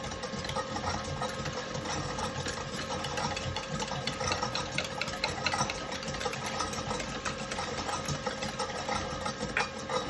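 Greek yogurt whipped with sugar by an electric mixer at rising speed, a steady whirring motor hum with a rattling, busy texture that runs unbroken and fairly close throughout.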